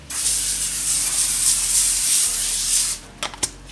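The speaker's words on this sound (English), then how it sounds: "take a couple of sheet pans here and shoot a little bit of non-stick spray" A steady hiss of non-stick cooking spray from an aerosol can onto sheet pans, close and continuous for about three seconds, then a few short bursts.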